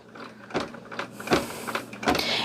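A Bernina B 790 Pro embroidery machine stitches white thread on a candy cane design, giving a close mechanical whir broken by rhythmic thumping needle bursts roughly every half second.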